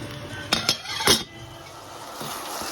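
A lid clinks onto a metal cooking pot of aubergine stew with chives, a few sharp metallic knocks and a brief rattle close by, then quiet kitchen background.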